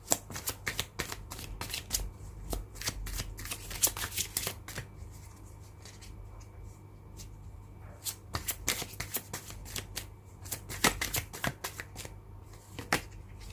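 A deck of tarot cards is shuffled quickly and repeatedly at close range, making bursts of crisp riffling flutters and snaps with short pauses between them, at a soft level with no voices.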